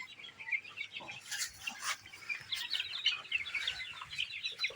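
Tiger breed chickens cluck and chirp in a steady, busy chorus at a farm, with overlapping calls close by and no talking.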